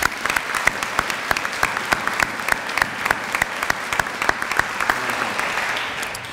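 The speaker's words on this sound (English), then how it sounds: "So please join me in giving all of them a big round of applause." A university student-government audience gives a round of applause, with sharp, distinct claps close by over a dense crowd of hands, easing off slightly toward the end.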